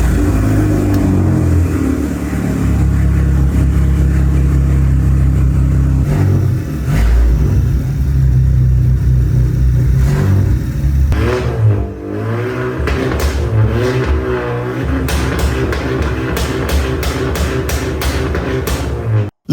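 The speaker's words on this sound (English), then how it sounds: "Listen to the sound of this TSI." A Volkswagen Jetta TSI turbo engine runs loud and close, holding a deep idle before revving up and down in several rising and falling surges, with sharp blips near the end and no talking.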